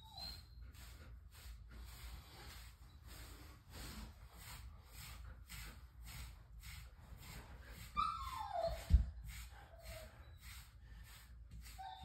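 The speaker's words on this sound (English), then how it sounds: "You guys hear the other dog" A second dog gives a brief, falling whine in the background. Under it, a FURminator deshedding tool makes steady, rhythmic brushing strokes through a husky's undercoat.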